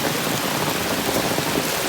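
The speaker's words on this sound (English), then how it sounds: "we're getting a nice afternoon thunderstorm" Heavy rain pours during an afternoon thunderstorm on a hike between Woody Gap and Hawk Mountain, a loud, dense, unbroken hiss of drops close around, with no voices.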